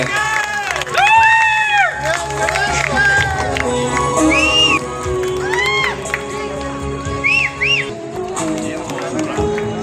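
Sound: audience applause

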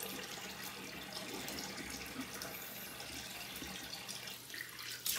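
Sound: water running while rinsing off shaving soap

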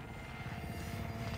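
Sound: friendly support helicopter arriving in Call of Duty Modern Warfare video game

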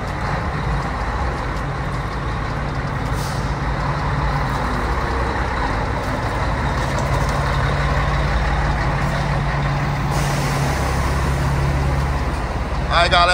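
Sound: truck driving by

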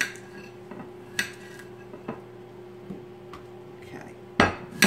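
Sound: potatoes being put into a roasting pan

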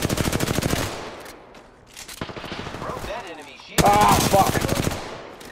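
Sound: video game gunfire

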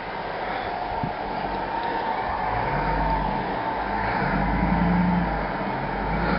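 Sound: Dodge Ram 1500 pickup truck pushing snow

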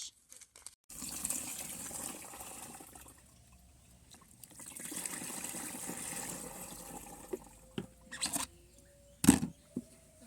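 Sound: pouring two liters of water for pesticide spray mix

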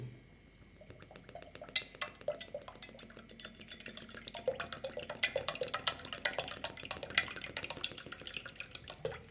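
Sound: pouring cooking oil into pot

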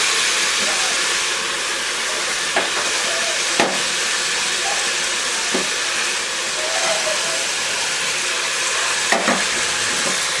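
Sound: vegetables and peas frying in a pan

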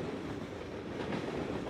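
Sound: train passing by in video game Drug Dealer Simulator

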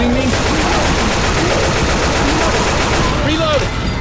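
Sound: gunfire in the video game Left 4 Dead 2

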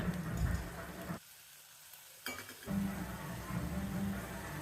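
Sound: sautéing onion and tomatoes in pan

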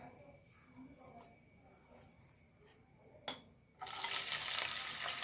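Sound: ginger frying in oil for vadukapuli pickle

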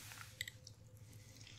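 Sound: chewing while eating a vegetarian meal

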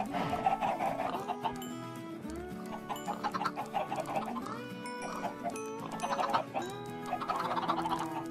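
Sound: chickens clucking in Minecraft video game

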